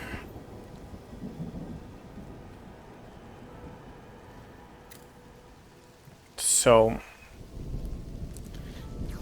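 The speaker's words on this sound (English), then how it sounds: "And now it's raining." Rain falls steadily in the video game Mind over Magic, with a soft low rumble of thunder beneath and a brief loud burst near the end, while a person speaks over it.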